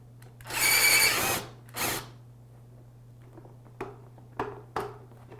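An impact wrench removes the seat bolts on a Yamaha R6 motorcycle in two loud, close bursts of rattling whirr, one long and one short, followed by a few faint metallic clicks and clanks as the parts are handled.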